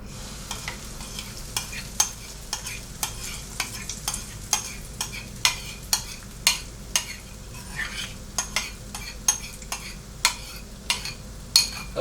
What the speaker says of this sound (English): I got my 1 pancake in here, so I'm going to go ahead and put it in the pan now.